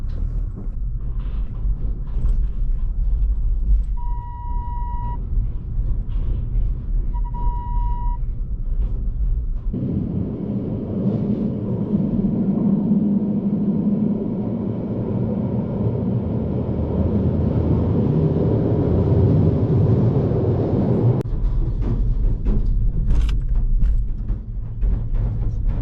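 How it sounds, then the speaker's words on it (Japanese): A Swiss car train carries cars through a mountain tunnel, heard from inside a vehicle as a continuous low rumble that grows heavier and louder midway, with two short electronic beeps early on. "道中、車ごと乗れるカートレインを利用しました。"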